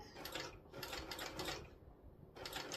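A sewing machine stitching a tote bag, a quiet, fast mechanical whirr in short runs broken by brief pauses, close up with no talking.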